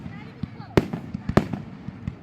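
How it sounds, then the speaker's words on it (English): Fireworks grand finale at Morningside Park, with repeated sharp booming bursts and crackles landing in quick succession over a constant crowd murmur, with people talking throughout. "Oh, this is the grand finale right here. Look at all these fireworks!"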